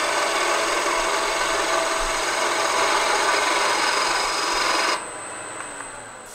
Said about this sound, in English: Smooth it off a little bit first. This is a bevel rubbing cut.